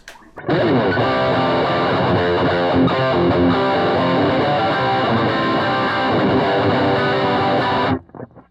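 An electric guitar through an overdrive pedal plays a thick, saturated riff, loud and continuous, stopping suddenly at the end.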